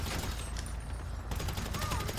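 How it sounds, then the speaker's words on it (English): A special carbine in GTA 5 Online fires in a rapid run of shots, with dense crackling gunfire over a noisy game background in a short burst. "Let's say I'm using my special carbine"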